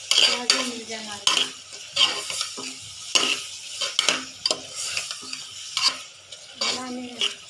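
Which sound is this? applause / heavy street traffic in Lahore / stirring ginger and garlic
stirring ginger and garlic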